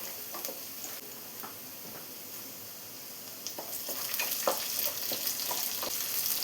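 Onion, garlic and shallots fry in hot oil for a sweet potato stir-fry, a steady close sizzle with soft crackles and occasional spatula taps on the pan, growing slightly louder toward the end.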